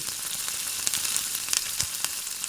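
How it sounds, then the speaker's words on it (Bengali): Pakon pitha, a traditional Barisal rice cake, frying in hot oil while being turned to a light brown, giving a steady close sizzle with a few sharp crackles and pops. "এভাবে উল্টে পাল্টে পিঠাগুলো আমি হালকা বাদামি রং করে ভেজে নিব"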